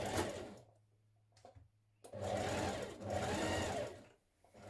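Dress seams are stitched on a sewing machine with a 1.5 cm seam allowance, in short bursts of rapid whirring separated by pauses, close and clear.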